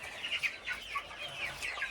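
Several roosters cluck in a backyard poultry yard, a quick run of short, close calls overlapping one another over about two seconds.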